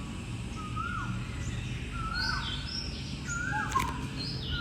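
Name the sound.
birds singing in Thai jungle canopy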